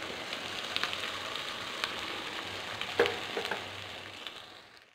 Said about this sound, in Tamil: இனி வந்து இந்த அரைச்சி வச்ச மாவை இதில் கொட்டி வதக்கிடுவோம்